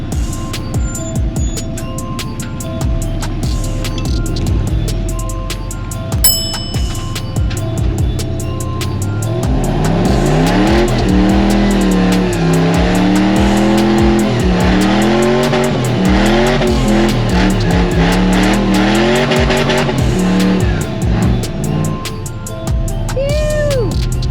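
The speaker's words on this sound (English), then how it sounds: "Right there is what we call a front burn." An off-road vehicle's engine revs hard and climbs in pitch during a front-wheel burnout in the Arizona desert, tires squealing against the ground, loud and sustained for most of the stretch.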